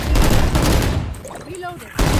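Loud, close gunshots in a video game, fired in a rapid volley that fills the opening second, then a brief voice before another shot cuts in at the end.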